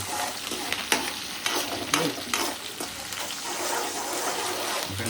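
Chopped ginger, garlic and green chili frying in a pan: a loud, bubbling sizzle with a few scraping stirs early on, settling into a continuous hiss.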